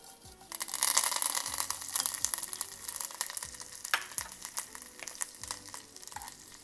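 Ginger, mustard seeds, urad dal, dry chili, asafoetida, cumin, curry leaves and green chili dropped into hot oil burst into a loud crackling sizzle with sharp pops, settling into steady frying with a few clicks of a utensil.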